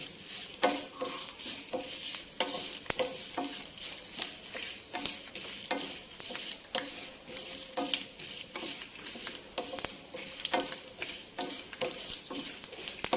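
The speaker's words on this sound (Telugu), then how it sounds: "ఇది మంచి సువాసన వచ్చేలాగా వేయించుకోవాలి." Ingredients for Andhra gongura pachadi are being fried in a pan until reddish and fragrant. A steady close sizzle runs throughout, broken by rapid, repeated scraping strokes of a stirring spoon.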